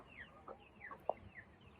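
Cornish Cross meat chickens cluck softly and intermittently, with a few sharper clucks and soft background chatter from the flock, fairly quiet and close.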